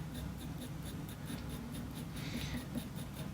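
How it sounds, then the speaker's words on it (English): Graphite pencil strokes scratching across paper while drawing a retriever puppy's fur, a steady run of quick, rhythmic scratches, close and soft, with no voices. "I'm making my pencil strokes a little bit longer to match the length of the"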